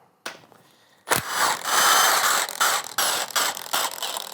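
A ratchet works on 13mm oil valley cover bolts of a 5.3L L83 V8 during teardown, giving a sharp snap followed by a sustained rasping ratchet buzz broken by brief pauses, close and loud.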